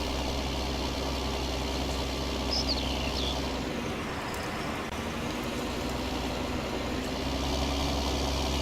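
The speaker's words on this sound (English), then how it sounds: "Pull it nice and slow, we don't want to do any damage to our tractor." Tractor engine in Farming Simulator 19, pulling a barn-find tractor slowly, a steady droning rumble that dips briefly midway before settling back to an even hum.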